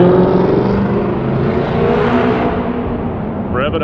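Car engine revving on a busy city street, a loud close roar that holds steady and slowly eases off, with a brief higher whine at the end.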